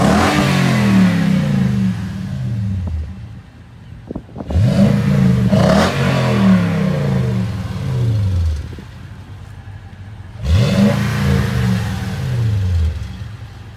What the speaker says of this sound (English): So let's talk about the engine note. Let's have a listen in the back. It's a stock exhaust